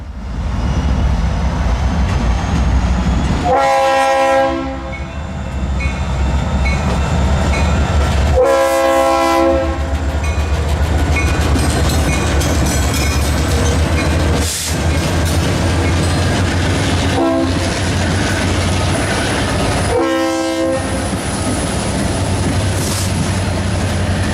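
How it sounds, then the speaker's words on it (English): A loud freight train rumbles steadily past up close, with several long locomotive horn blasts sounding at intervals over the continuous rolling roar of the cars. "we were back again at Simpson for inbound train number 209 with the Wabash Heritage locomotive trailing"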